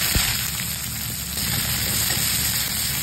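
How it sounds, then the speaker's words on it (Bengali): Cumin seeds and chopped onion sizzle in hot oil in a wok, a soft steady hiss with faint crackles and an occasional clink, heard alone. "এবার কড়াইতে জিরে ফোড়ন দেবো, দেবো কুচনো পেঁয়াজ"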